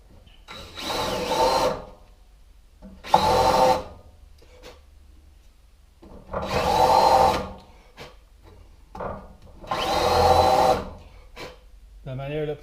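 A power drill boring holes into metal for a homemade front hitch, running in four long bursts of about two seconds each with quiet pauses between, loud and close.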